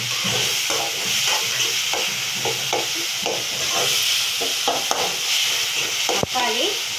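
Tomatoes with ginger-garlic paste sauté in a pan, giving a loud, continuous sizzle with repeated rhythmic scraping and stirring strokes and a sharp clack near the end.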